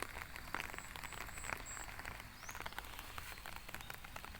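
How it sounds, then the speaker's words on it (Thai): Soft, steady morning rainfall pattering over rice fields, a dense hiss of drops with faint chirps in the distance. "ดูบรรยากาศทุ่งนา ฝนตกตอนช่วงเช้าๆ"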